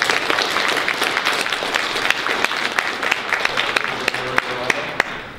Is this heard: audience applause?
yes